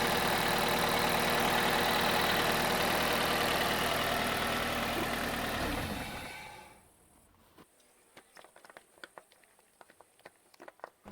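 A warmed-up car engine idles loudly and steadily, then winds down and falls silent. Scattered faint clicks and handling sounds follow the shutdown. The engine is being decarbonized and flushed with dimexide.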